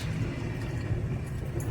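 A Jeep Rubicon in four-wheel drive crawls off-road with a steady, low engine and drivetrain rumble that holds even throughout, fairly close and continuous, with no voices.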